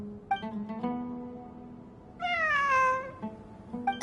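A cat meows several times, a few short faint mews followed by one longer, rising-and-falling meow, heard close in a quiet room with no talking.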